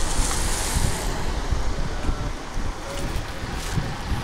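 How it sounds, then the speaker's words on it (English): Steady, loud wind roars and buffets the microphone outdoors on a street in Medjugorje, a continuous rushing noise with no talking. "And you hear the wind."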